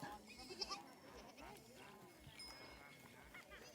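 Goats bleat at a goat farm near a dam in Prachuap Khiri Khan, with a few short calls amid busy outdoor background noise, fairly faint.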